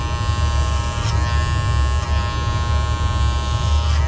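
Electric hair clippers buzzing steadily during a taper haircut, a close, loud, continuous motor hum with no talk.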